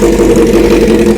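A Honda CBR 600 F2 motorcycle engine running steadily, a loud close droning hum with a low rumble and no change in pitch across the short stretch.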